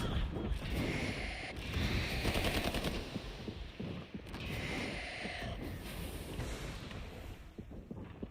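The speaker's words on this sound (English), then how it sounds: "Someone's shooting me!" Machine-gun fire rattles in rapid, sustained bursts during a video game firefight, mixed with wind-like rushing noise and no clear talking.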